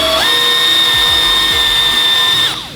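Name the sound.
buffing car panel repair area with heavy grit compound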